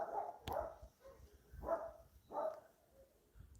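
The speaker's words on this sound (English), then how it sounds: "Quiet, barking dogs." Dogs bark outdoors in a steady series of about four loud, spaced barks, close enough to stand out clearly over a quiet background.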